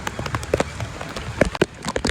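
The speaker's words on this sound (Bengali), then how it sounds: "অনেক জোরে বৃষ্টি পড়তেছে" Heavy rain pours steadily for the whole stretch, a dense close-up patter broken by sharper drops and splashes striking a surface.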